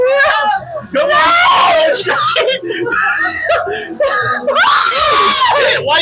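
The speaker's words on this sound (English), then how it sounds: "Why are you screaming?" A person screams in several loud, high-pitched bursts mixed with whimpers and nervous laughter, close up, during a spooky Halloween game session with talk between the bursts.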